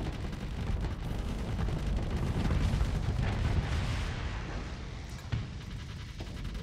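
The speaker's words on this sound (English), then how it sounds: "The difference a few missiles makes. So very accurate, every single shot hitting, just able to do so much damage." Missiles fire and strike targets on a video game battlefield, a dense, continuous rumble of booms and blasts that swells and eases without a break, loud and close, with no talking.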